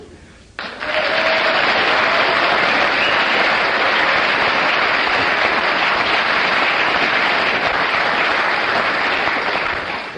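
A studio audience breaks into loud, sustained applause that starts abruptly and holds a dense, steady roar of clapping for about ten seconds before easing slightly.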